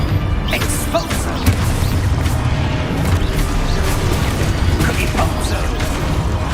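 A wizard video game's Expulso spell bursts in a booming blast, with thuds and crashes over a dense, rumbling background that stays loud throughout.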